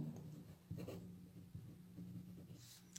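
Pen scratching on paper in quiet short strokes and taps, very faint and close, over a low steady background hum.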